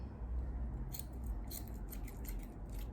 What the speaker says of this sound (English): Then I can take my little ends and cut them open.